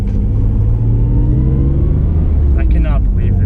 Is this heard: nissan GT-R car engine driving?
yes